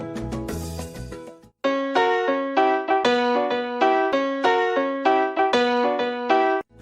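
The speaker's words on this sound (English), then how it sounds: "then that same full montuno pattern would sound like this." After a brief denser musical passage, a solo piano plays a salsa montuno pattern in 3-2 clave direction, a close, bright loop of syncopated chords and octaves repeating steadily to the end.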